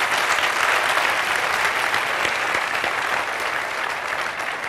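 Sustained applause from a sizable conference audience, dense and even, holding steady for several seconds with no talking.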